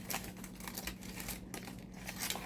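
A wrapped takeout gyro is unwrapped close up, with continuous crinkling and rustling of the wrapper over about two seconds and no talking.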